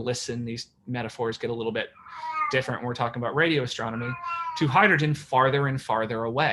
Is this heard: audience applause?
no